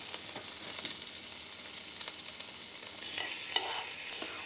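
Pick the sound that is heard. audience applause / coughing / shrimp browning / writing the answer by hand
shrimp browning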